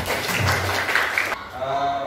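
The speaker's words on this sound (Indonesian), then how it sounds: "Aplaus dulu, tepuk tangan." Classroom audience applause during a teaching-practice session: a short burst of scattered clapping that quickly fades as a voice carries on speaking.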